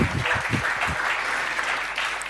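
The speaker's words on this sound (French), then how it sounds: "que vous pouvez applaudir" Conference audience applauding as a guest speaker is welcomed, a loud, full round of clapping that carries on steadily for a couple of seconds.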